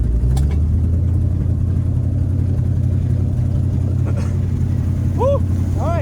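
Abandoned 1970 Ford Mustang V8 running rough after decades of sitting, a loud steady low engine drone close by with faint squeaks over the top.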